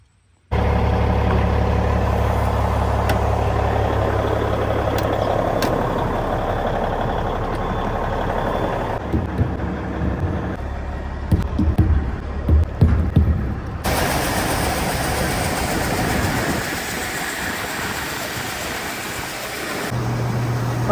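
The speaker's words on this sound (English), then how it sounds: "I gotta go start that truck up" A farm truck's engine starts and settles into a loud, steady idle, with some clattering knocks partway through and a shift in tone toward the end.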